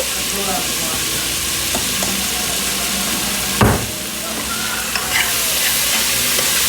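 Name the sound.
stirring beef stew ingredients with garlic in a pot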